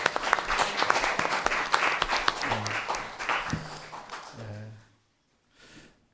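Church congregation applauding to welcome a first-time visitor at an Easter and second-anniversary thanksgiving service, dense clapping for about four seconds that thins out and stops, with a brief spoken phrase heard during it.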